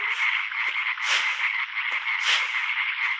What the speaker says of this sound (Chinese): 青蛙的声音